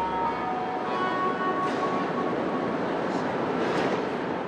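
A rubber-tired Montreal metro train departs a station, giving a steady broadband rumble with a sustained tonal whine layered on top.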